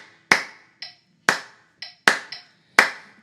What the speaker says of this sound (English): So there's 2 beats of the clave in the first measure and 3 beats in the second measure.